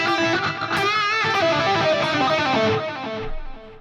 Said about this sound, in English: Why is there so much delay?